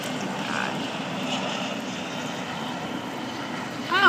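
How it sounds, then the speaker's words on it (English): Helicopter flying by outside a window, a steady broad rotor-and-engine drone at moderate distance that holds level and swells slightly at the very end, with no talking. "Oh, and there's a helicopter."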